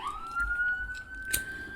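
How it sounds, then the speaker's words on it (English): A steady wailing police siren holds one rising tone at a distance, faint and continuous under low background rumble. "There's always sirens out here, man."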